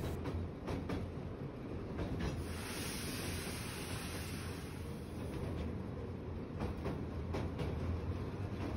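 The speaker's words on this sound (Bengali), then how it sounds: "ট্রেন ওই দিকেই এগিয়ে চলেছে।" The Darjeeling Himalayan toy train rumbles steadily along mountain tracks near Siliguri Junction, with a continuous roar and regular wheel clacks at close range.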